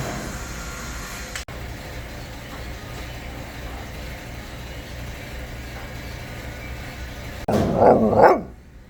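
A few sharp dog barks near the end, after a long stretch of steady background hum and noise.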